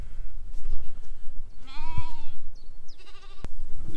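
Sheep bleating in a field during lamb work on a farm, with a clear drawn-out bleat near the middle and another shorter call later over steady outdoor background noise.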